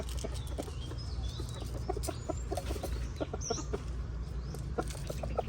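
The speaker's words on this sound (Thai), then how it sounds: "สารวนอยู่กับไก่เนี่ยครับ ตอนเช้าวันนี้" Chickens cluck in short, scattered bursts around a garden in the early morning, moderately close over a steady low background hum, with no talking.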